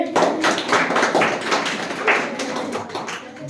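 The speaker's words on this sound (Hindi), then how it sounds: "हाँ चलिए ठीक है, ताली बजाइए जी।" Students in a physics classroom clapping together, a busy dense patter of many hands that rises and falls, close and reverberant, with a little talk under it.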